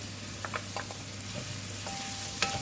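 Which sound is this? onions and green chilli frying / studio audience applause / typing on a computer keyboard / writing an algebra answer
onions and green chilli frying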